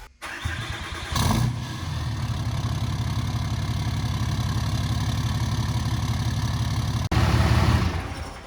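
Cummins diesel pickup truck engine idling steadily up close after a fresh Airdog DF-220-5G fuel pump install and priming, with a brief surge near the start and a louder rev burst toward the end.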